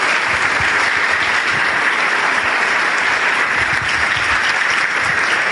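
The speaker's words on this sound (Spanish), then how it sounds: "Yo les pido para todos estos líderes un gran aplauso de agradecimiento." A seminar audience in Armenia gives a big round of thankful applause for the leaders, dense continuous clapping from a large crowd, loud and steady throughout without a break.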